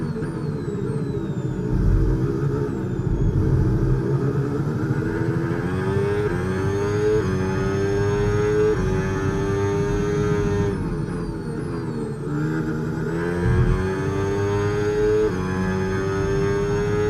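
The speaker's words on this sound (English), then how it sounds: "overtake mode active. We'll get some extra power from the hybrid system now. Use boost on the next long straight to get past." Formula 1 race car engine in a racing video game accelerating with hybrid overtake boost, a loud, continuous high-pitched whine that climbs repeatedly through rising gear changes, dipping briefly at each shift, with no talk.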